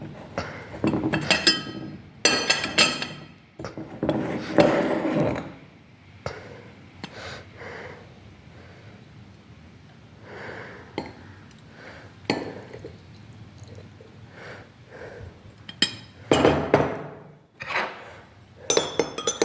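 Spoon clinking against a glass while milky tea is stirred, a series of bright irregular clinks in several bursts with quiet pauses between, close and fairly loud.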